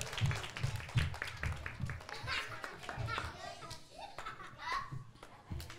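Applause and clapping from an audience at a kindergarten talent show, a run of quick claps heard close along with children's voices and bits of laughter.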